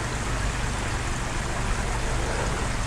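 Water at a garden koi pond with a filter system, a steady broadband rushing and splashing that runs continuously and evenly throughout, close and fairly loud.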